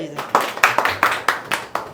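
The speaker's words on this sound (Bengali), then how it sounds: "জোরে হাততালি হবে" Scattered hand claps from a small audience at a lecture on copper rods and lightning arrestors, a few uneven sharp claps at close range, fairly loud.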